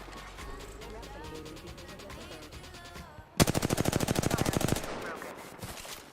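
Enemy AI in an Unreal Engine 5 game opens fire in a rapid, loud burst of automatic gunshots lasting over a second, preceded by quieter game sounds and voice chatter.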